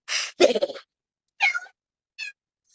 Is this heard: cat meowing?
yes